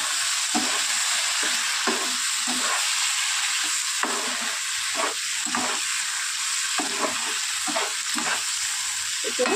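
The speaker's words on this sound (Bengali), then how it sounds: "তো চলো, এটা একটু চিংড়ি মাছটা দিয়ে কষিয়ে নিই" Prawns frying and stirred in a pan for a spicy poppy-seed prawn dish, a loud continuous sizzle broken by regular scraping stirs throughout, with no talking.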